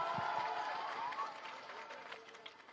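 An election rally crowd claps with both hands raised to honour the stage, giving a dense wash of applause that fades gradually over a few seconds.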